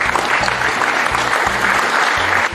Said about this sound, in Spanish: Donde se encuentre, enviemos un fuerte aplauso